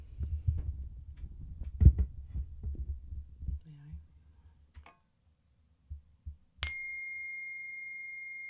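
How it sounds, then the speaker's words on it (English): A small tea bell struck once with a bright ping, ringing out in a clear sustained tone that slowly decays in an otherwise quiet room after some low rumbling handling noise. "And for our favorite tea bell."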